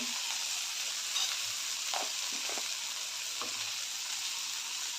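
Sprouted mung beans with onion, tomato, coriander powder, turmeric and asafoetida are stirred in a hot pan, a continuous close sizzle broken by a few soft scraping strokes, with no voices.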